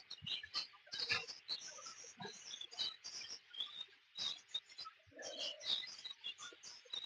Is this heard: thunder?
no